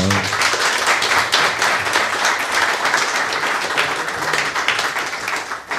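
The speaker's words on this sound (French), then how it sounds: "On peut l'applaudir très fort." An audience at a podcast meetup claps loudly and steadily, dense crowded applause lasting the full stretch without any talk over it.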